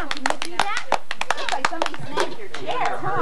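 Children clapping for a magic trick at a birthday party, a burst of scattered handclaps close by, mixed with excited kids' voices and chatter.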